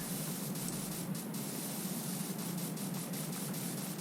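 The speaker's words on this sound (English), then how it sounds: "Giving this topper a nice little rinse." A water spray hoses volcanic ash off a topper, a steady, even hiss of rushing spray holding constant for several seconds with no pauses or voices.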